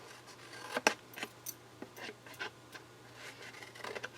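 Scissors trimming thin slivers from paper tabs for a Stampin' Up! box, a series of small, close snips and light paper clicks spaced irregularly in a quiet room.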